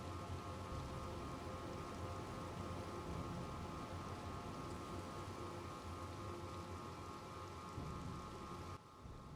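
Steady rain falls in a forest, a dense, even patter that holds at the same level throughout and then cuts off abruptly near the end.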